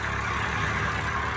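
A Swaraj 855 tractor in the video game Farming Simulator 20 drones with a steady, even engine rumble that stays at a constant level throughout, with no talk.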